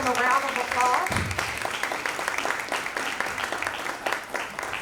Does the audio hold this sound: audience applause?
yes